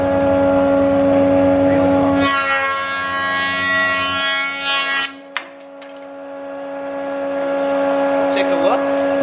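A woodworking jointer runs with a steady, loud mechanical whine as wood stock is fed through with a push stick. The tone shifts partway through as the board passes the cutter, then settles back.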